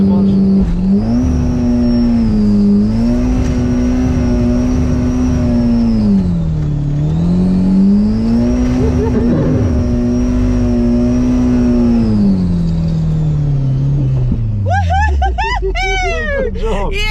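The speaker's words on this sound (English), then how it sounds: "Lots of revs this time. To the floor. Got the clutch." A JDM drift car engine revs hard on a track, with a strong rising and falling tone that climbs, dips and climbs again before dropping away near the end. Voices and crowd noise sit in the background.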